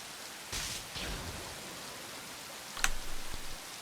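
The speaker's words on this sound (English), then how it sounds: "But the rain will continue." Rain falling in the video game Planet Coaster, a faint, steady hiss of rainfall broken by a few brief louder gusts and crackles.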